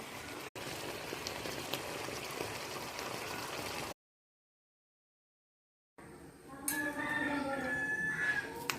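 A pot of water at a boil for cooking with tapioca added to it, a bubbling, liquid churn that runs steadily, breaks off into a sudden silence, then returns with some faint clinking.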